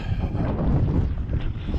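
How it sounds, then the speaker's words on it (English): Wind buffets a microphone outdoors in Maine on a windy day of roughly 12 to 15 mph gusts, a loud, rumbling, fluttering roar that runs throughout with no voices. "It is windy today, maybe 12 to 15 mile per hour winds."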